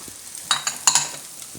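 Carrots and peas stir-fry in a pan for pasta fried rice, with a soft sizzle under a quick cluster of close spoon scrapes and clicks.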